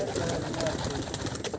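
A Teddy pigeon among breeding and high-flying pigeons coos softly and repeatedly, faint against a busy background with other birds nearby.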